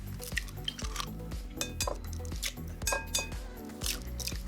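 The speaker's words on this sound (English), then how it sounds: "So in a bowl, just gonna crack in 4 eggs." Four eggs cracked into a bowl, a run of sharp clinks and taps on the rim close by, spaced irregularly over a few seconds with no talking.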